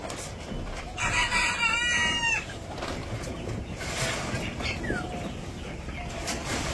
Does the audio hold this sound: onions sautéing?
no